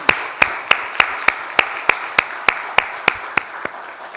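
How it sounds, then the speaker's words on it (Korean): Claps ring out in a church during a Sunday worship service, about fourteen sharp, evenly spaced hand claps at a steady rhythm, fairly close and loud, with no talk. "그들에게 감사의 박수를 한번 하겠습니다."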